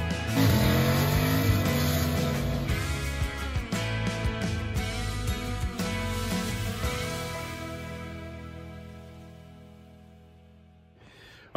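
Ford Mustang drag car engine running steadily and loudly through most of the stretch, with brief throttle bursts, then slowly fading toward the end before a sharp sound at the cutoff.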